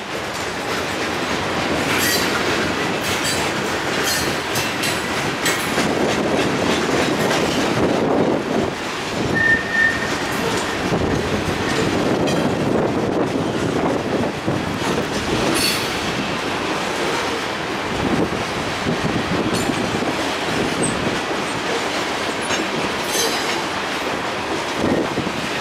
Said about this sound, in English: You're now viewing the passing of a loaded coal train